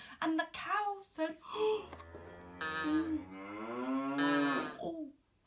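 A human voice imitates a cow, drawing out several long, wavering, low moos with breathy onsets, close and fairly quiet, in a bedtime story setting.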